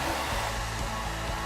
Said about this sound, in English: Anytime you're doing ping pong trick shots, you gotta have the hairdryer element